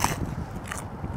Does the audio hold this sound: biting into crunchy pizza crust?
yes